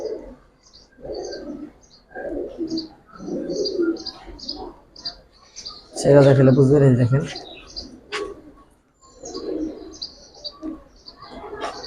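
Giribaz coloring pigeons cooing in soft repeated bursts, with one louder, fuller coo run and scattered chirps, heard close by under someone talking intermittently.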